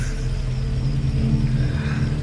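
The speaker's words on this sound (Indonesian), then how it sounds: "Ya, sepertinya itu mobil pengangkut sayuran." A low, steady rumble and engine drone of a vegetable transport truck arriving outside, fairly close, running throughout with no speech.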